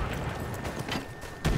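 Gunfire in the video game Battlefield, a muffled, continuous fusillade of shots with a sharper crack near the end, heard fairly close.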